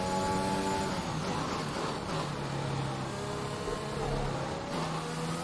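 A racing car engine at full throttle in F1 2021 at the British GP holds a steady high-pitched whine with gear shifts stepping the pitch, loud and continuous, with no talking.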